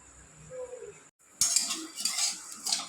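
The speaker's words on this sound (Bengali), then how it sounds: "এই যে এখন ঘিটা দিয়ে আমি সিমইটাকে ভেজে নেব" Vermicelli fried in ghee in a pan with metal utensil scraping and stirring, a quieter stretch of clinks and faint sizzle giving way after a brief pause to louder, continuous stirring and clattering close by.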